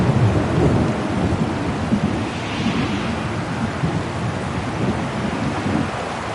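Heavy rain pours steadily through a thunderstorm in the video game Syberia: The World Before, with deep rumbling thunder rolling underneath, loud and continuous without any voices.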